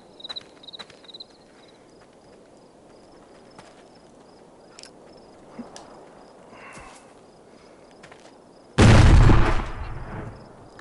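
A grenade explosion in the VR shooter Arizona Sunshine, one loud, sudden blast near the end that follows a stretch of quiet ambience with faint ticks and clicks.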